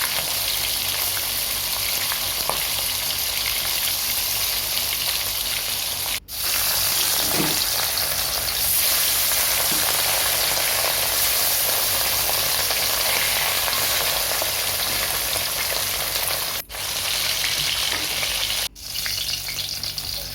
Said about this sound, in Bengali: প্রথমে গরম তেলে মাছগুলোকে খুব ভালো করে লাল লাল করে ভেজে নিয়েছি